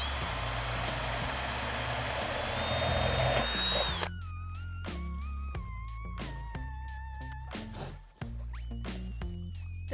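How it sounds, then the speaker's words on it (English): A power drill whines in a long steady burst, then runs in short revving pulses and stops, its pitch dropping as it bites into a pumpkin, close and fairly loud. "I'm going to drill a little hole here for the rebar to go up into the pumpkin."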